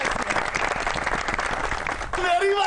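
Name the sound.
audience applause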